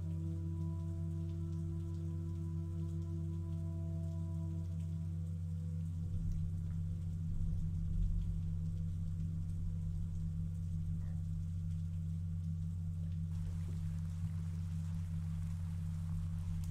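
Steady rain from the stealth video game Thief falls in an apartment scene, a continuous dense hiss with low steady hum beneath, unbroken and evenly loud throughout with no voices.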